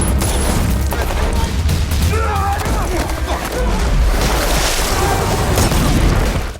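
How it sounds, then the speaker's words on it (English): A grenade explodes in a movie action scene, a loud, dense wall of blasts, rumble and crashing debris that stays heavy and continuous throughout, with voices faintly mixed in. "Then a grenade lands near them and explodes, badly injuring them both."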